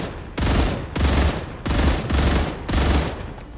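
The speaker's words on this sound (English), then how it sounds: "Artillery!" Heavy artillery fire in the video game Star Rupture booms in four or five loud, deep bursts, each lasting roughly half a second and separated by brief gaps.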